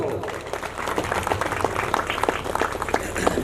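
Congregation at a Hindu devotional jagran gathering claps in a steady, fairly rhythmic stream of many hands, moderately loud and close, with a murmur of voices mixed in beneath.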